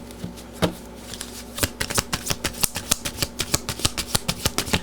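Tarot cards riffle and snap in a rapid series of crisp, close shuffles, building into quick regular flutters with no voices.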